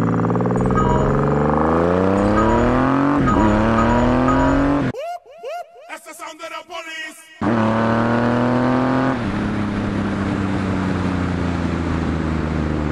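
A Triumph Rocket III motorcycle at wide open throttle, its engine note climbing loudly, cutting out briefly for a clutchless upshift, then pulling hard again in the next gear before settling, close and powerful.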